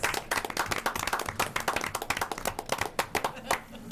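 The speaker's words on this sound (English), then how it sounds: "Can we give them one more round of applause?" Clapping for families at a school board meeting, sparse and uneven with individual sharp claps standing out from a modest group, fairly close, with some voices mixed in.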